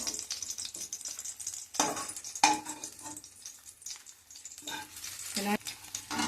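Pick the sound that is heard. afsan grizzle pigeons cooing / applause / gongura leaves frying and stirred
gongura leaves frying and stirred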